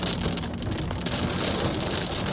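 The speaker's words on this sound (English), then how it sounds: "And it's rain." Steady rain falls on surfaces outdoors, a dense continuous patter of drops at moderate loudness, with a faint low rumble underneath and no talking.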